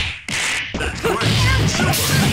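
Combination attack hits land in the MUGEN fighting game, Sonic Team against Freedom Planet: a rapid string of sharp whacks and whooshing strikes, loud and close, in quick succession.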